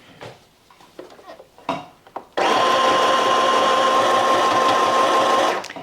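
Sewing machine stitching fabric for a drawstring bag: a few close handling clicks and rustles, then a loud, continuous whirring run of fast stitching for about three seconds before it stops.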